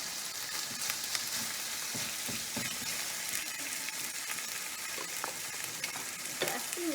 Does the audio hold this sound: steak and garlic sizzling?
yes